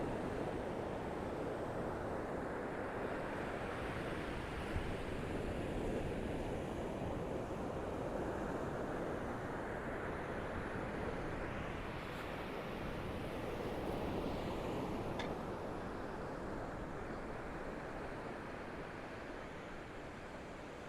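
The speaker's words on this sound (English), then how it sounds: "Waves aren't near as big as they were yesterday." Ocean surf breaking on the beach at Cape Point, Buxton, on the Outer Banks, a continuous wash of moderate waves rolling in and out, mixed with wind rumbling on the microphone.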